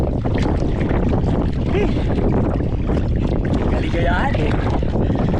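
Strong wind buffeting a microphone outdoors while fishing from a boat at sea, a loud continuous roar with water noise, and someone speaking briefly over it.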